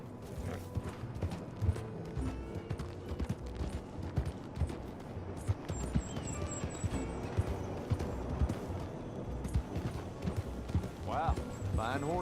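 In the video game Red Dead Redemption 2, hooves clip-clop in a steady rhythm alongside a horse's whinny, with people talking over the sound throughout.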